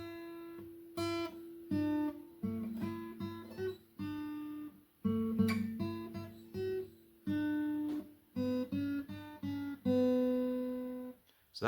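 Acoustic guitar picks a melody on two strings, clear single notes in a halting rhythm with short gaps between phrases, close and moderately quiet, no voice.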